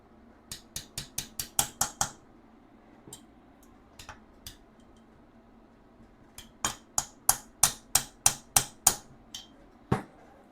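A ratcheting socket wrench with an 11 mm socket works on the top end of a 1996 Yamaha Wolverine 350 ATV engine. Crisp, close clicks come in two fast runs, separated by a few scattered ticks and a short pause.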